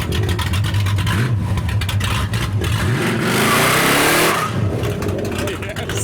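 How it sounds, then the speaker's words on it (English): A modified V8 car with an exhaust bypass that skips all silencing revs hard at a car meet, loud deep engine roars rising and surging over nearby crowd talk. "I think he's got an exhaust bypass, so where it would normally go out the back, he's currently got it out down the middle of the car, so it's extra loud."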